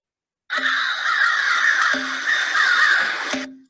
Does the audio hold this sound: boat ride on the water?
no